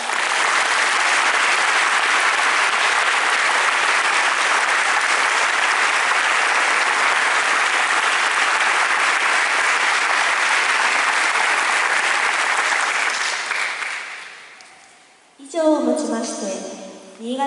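Loud, sustained audience applause at a Niigata high school brass band's send-off concert for the baseball team. Dense clapping holds steady, then tapers and fades near the end before a voice begins.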